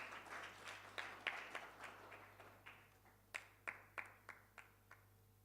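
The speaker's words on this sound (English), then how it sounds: "You can give them a round of applause as they prepare themselves." Scattered applause at a research conference session, with a handful of claps at first, then a few sharper isolated claps fading out, faint and somewhat distant over a steady hum.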